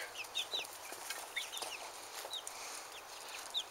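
Backyard hens cluck softly around a chicken coop, with short, scattered, high calls close by over a faint outdoor hum and no speech.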